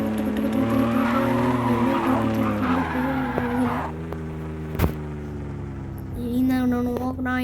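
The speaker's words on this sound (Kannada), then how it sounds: "ಈಗ ನಾನು ಡ್ರಿಫ್ಟ್ ಮಾಡ್ಕೊಂಡು ನೋಡ್ಕೊಂಡು ಹೋಗ್ತೀನಿ" A car drifting in a flexbody physics driving game, its engine droning loudly while tires squeal continuously, the pitch sliding and shifting, then a brief dip and a sharp knock before the screeching revs rise again.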